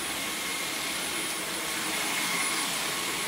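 A Dyson V11 Absolute Extra cordless vacuum cleaner runs with a steady, even high-pitched whir and airy hiss, close and continuous without any break.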